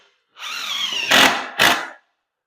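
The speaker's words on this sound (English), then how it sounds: "I would normally have my screws ready first, and then" Power drill driving a screw into wood in a woodworking shop: one close, loud whirring burst that rises in pitch, with two sharp thumps toward the end as the screw seats.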